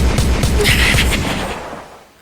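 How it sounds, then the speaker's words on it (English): Close, loud burst of rapid gunshot sound effects, a dense volley of cracks that fades out over about two seconds, with no talk. "Gunshots for Brooklyn."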